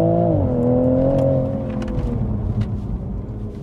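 A tuned 400 bhp Toyota Supra revs hard in second gear, a loud, close engine note that climbs and then eases off as the drone settles lower, with no talk.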